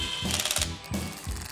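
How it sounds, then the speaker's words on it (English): A pneumatic or power driver bolts down a Ffitech MAP sensor on a 427 LSX engine being converted to supercharged, giving two loud, rapid rattling bursts of hammering close by. "The Ffitech map sensor gets bolted down,"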